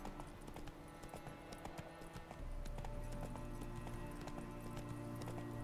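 Roach the horse from the Witcher 3 video game trotting with steady clip-clop hoofbeats, a continuous rhythmic gait over soft background noise, moderately close throughout.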